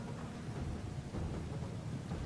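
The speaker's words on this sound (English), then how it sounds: "You can hear the hooves thundering." Norwegian cavalry gallops in a video game battle, heard as a dense, low, steady rumble of many hooves, faint and continuous with no talk over it.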